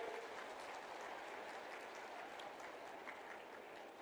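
Applause from the audience at the Chhattisgarh foundation day event, a steady, dense clapping from a large crowd that fills the whole stretch without a break.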